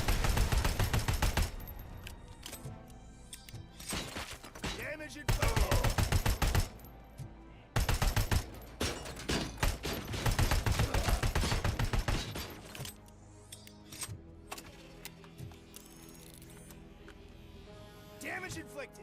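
Heavy combat in the shooter RoboCop: Rogue City, with dense bursts of gunfire and explosions hammering in close, then thinning into scattered shots and mechanical clatter toward the end, with voices mixed in at times.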